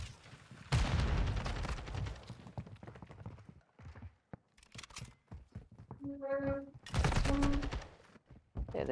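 Gunfire in Call of Duty during a League Spring Open match between Hydras and Marksmen, with loud bursts of shots and explosions under excited play-by-play commentary from casters.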